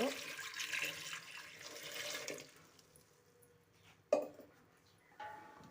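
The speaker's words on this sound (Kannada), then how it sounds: "ಅದಕ್ಕೆ ಸ್ವಲ್ಪ ನೀರು ಹಾಕ್ಕೊಂಡು" Water streams from a tap into a pressure cooker holding six medium potatoes for boiling, a close, steady gush for a couple of seconds, followed by a sharp clatter and quieter kitchen sounds.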